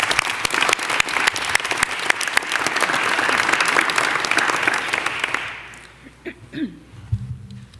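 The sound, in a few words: audience applause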